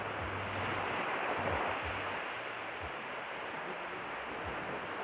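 Steady, soft Mediterranean surf at Side washing continuously with a gentle ocean hiss and light wind rumble, no breaking crashes.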